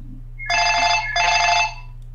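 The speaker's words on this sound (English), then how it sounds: "I am getting a phone call, so I will be right back." Telephone ringing with an incoming call during an online Dark Souls co-op session, two clear bursts of ringing with a short gap between them, loud and close over a steady low background hum.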